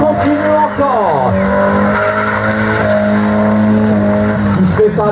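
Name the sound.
rally car drifting with tires squealing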